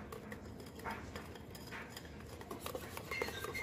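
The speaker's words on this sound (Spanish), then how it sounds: "Vamos a ir disolviendo lo que son el azúcar, la harina y la goma santana." A utensil stirs sugar, flour and xanthan gum in a pot to dissolve them, quiet repeated scraping and light clinks of metal against the pot in a steady rhythm close by, with no talking.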